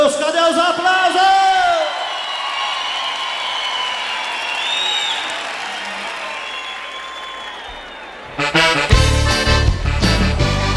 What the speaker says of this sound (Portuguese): Cadê os aplausos?